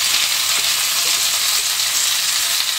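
Taro stolons (kochur loti) frying in a pan, a loud, even sizzle close up with faint stirring underneath, no voices.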